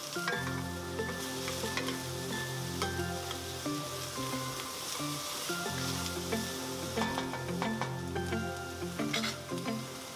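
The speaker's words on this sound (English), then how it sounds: "we can add our onions and our chopped carrot. And we're just gonna saute this for a few minutes until the onion is translucent" Onions and chopped carrot sauté on a hot hibachi surface for fried rice, a steady, even sizzle with soft crackles and occasional scraping stirs, continuous and moderately quiet with no talking.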